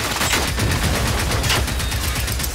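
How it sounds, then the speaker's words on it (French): Weapon fire in the robot-fighting game Generation Zero, shot through windows from a barricaded spot: a steady loud barrage of close, rapid gunshots with no pauses, filling the whole stretch. "C'est trop drôle de tirer à travers les vitres et tout."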